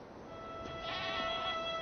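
Sheep bleat in a cartoon scene about herding in Tibet, a drawn-out wavering bleat swelling midway and holding moderately loud with no talking over it.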